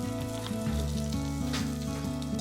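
Shrimp and sea-blite pancake fries in oil in a small pan, giving a steady, close sizzle with a faint tonal hum underneath and no talking.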